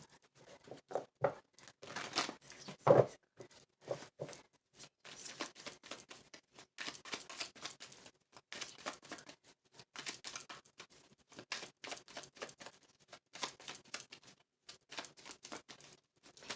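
Tarot cards shuffled and handled close up, a run of quick papery riffles, flicks and soft slaps coming in irregular bursts over the whole stretch, quiet with no voice.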